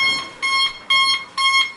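A 1990s Regalsafe FS50 intruder alarm panel sounds its alarm, a loud electronic pulsing tone in four evenly spaced bursts, heard close up with no talking.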